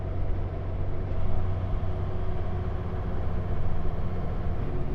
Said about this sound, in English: Here I'm going to take my foot off the throttle and you'll hear a transition from this sound to engine brake sound